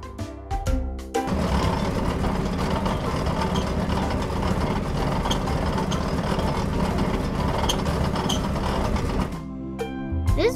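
Rotating drum of a concrete mixer truck churning cement, a dense steady mechanical whirring and rumbling that runs for about eight seconds between brief clicks at either end.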